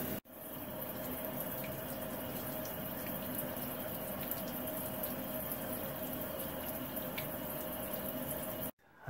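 Shower water running steadily at moderate level, a constant close rush of spray with no talking.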